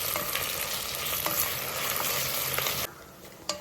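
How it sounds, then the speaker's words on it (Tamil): Ginger garlic paste frying and sizzling in a pan while being stirred, with a steady close sizzle, scraping spoon strokes, and quieter sizzling near the end. "சேர்த்து நல்லா மிக்ஸ் பண்ணிக்கலாம்."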